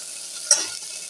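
Vegetables, including beans and potato, sauté in ghee for a paneer kurma. A soft, steady sizzle is heard close by, with one brief utensil tap or stir partway through.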